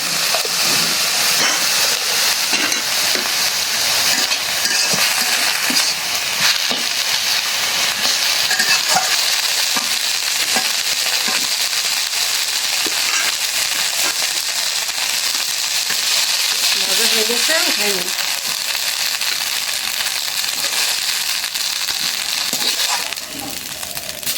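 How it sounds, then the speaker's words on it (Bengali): Oil sizzles loudly in a pan while broken rice is prepared for khuder bhaat, a dense, continuous frying hiss with stirring scrapes throughout and a faint voice now and then. "তেল দিয়ে দিই তেলে ভাজা ভাজা করি"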